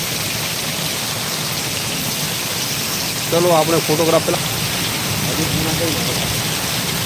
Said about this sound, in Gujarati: વરસાદ બરોબર વરે યાર